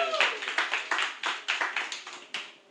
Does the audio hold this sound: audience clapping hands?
yes